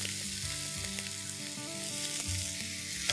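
Chopped onions and green chilies frying in a pan and being stirred for dhaba-style chicken bharta, giving a continuous close sizzle with soft scraping stir strokes, steady throughout and without voices.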